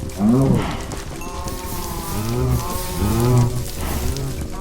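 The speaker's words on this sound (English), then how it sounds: "So now we have a bunch of cows everywhere and a broken barn" Minecraft cows loose around a burnt-down barn give several low, drawn-out moos, loud and close, spaced a second or so apart over a steady background hiss.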